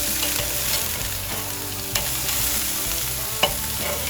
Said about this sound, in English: we'll get them seared off here in just a second once this heat builds up a little bit